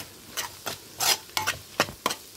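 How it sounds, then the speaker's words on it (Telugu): Egg and dried prawn curry cooks in a pan with salt and turmeric, stirred in about six quick scraping strokes over a faint sizzle. "రుచి సరిపడంత ఉప్పు అలాగే పసుపు వేసి 2 నిమిషాలు మగ్గనిచ్చుకుందాం."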